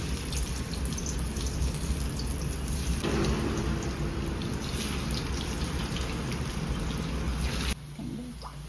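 Steady, dense sizzling and crackling of taro leaf rolls frying in hot oil, continuous throughout and dropping slightly in level near the end.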